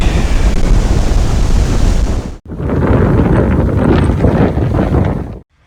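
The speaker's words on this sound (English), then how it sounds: "Yep, it's a bit windy." Heavy wind at a reservoir roars against the microphone in a loud, steady rush, cutting out briefly midway before returning just as strong.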